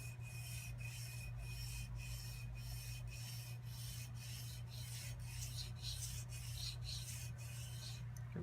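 A knife blade is hand sanded in steady back-and-forth strokes, each rasping rub repeating about every half second over a low constant hum; no speech.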